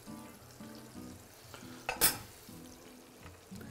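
Battered broccoli florets deep-fry in hot oil, a soft continuous sizzle with bubbling crackle and a brief sharp clatter midway, quiet and close with no talking.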